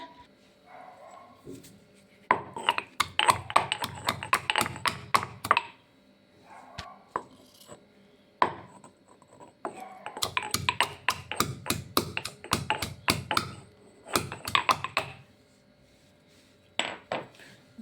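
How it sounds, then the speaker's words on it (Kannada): Ginger and garlic crushed by hand for a village-style avarekalu saaru, heard as bursts of sharp, close pounding taps in rapid runs with short pauses between, loud and mostly alone. "ಇವಾಗ ನಾನು ಮೊದಲಿಗೆ ಶುಂಠಿನೂ ಬೆಳ್ಳುಳ್ಳಿ ಜಜ್ಕೊತೀನಿ"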